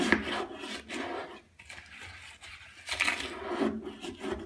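Hard water calcium stain scraped off toilet porcelain, a gritty rasping in short repeated strokes, close and moderately loud with brief pauses between passes.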